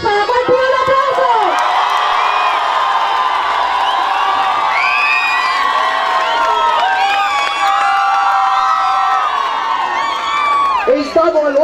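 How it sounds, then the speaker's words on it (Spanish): A large crowd cheers, whoops and shouts in loud, sustained excitement for a young speaker from the Benemérita Universidad Autónoma de Puebla at a protest event, voices overlapping throughout with little clear clapping. "el joven José de Jesús Arroyo Chávez, para el cual pido un aplauso"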